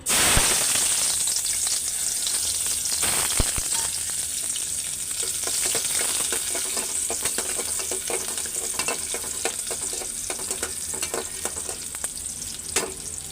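Onion and bay leaf hit hot oil in a pan, setting off a loud, continuous hissing sizzle with a dense crackle that holds steady throughout, plus an occasional clatter of utensils.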